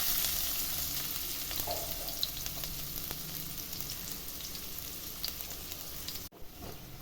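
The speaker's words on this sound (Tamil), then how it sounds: "இப்போ போட்டு வதக்கிடலாம்." Small sambar onions, finely chopped, sizzle and fry in hot oil in a pan, a steady close crackling hiss that runs without a break, with faint scraping of stirring and no talk over it.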